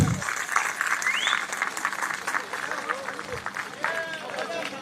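A crowd claps steadily for several seconds at a political rally in Nanded, with whistles and scattered cheering mixed into the applause.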